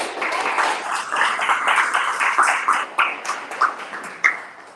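An audience claps together in steady, scattered applause at a conference in South Africa, sustained for several seconds with a few sharper claps standing out near the end.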